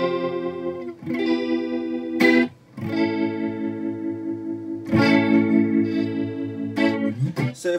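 Guitar run through a chorus pedal set for a staggering, tremolo-like warble, with sustained chords that pulse and waver, played loud and close in several strummed phrases with brief gaps between them.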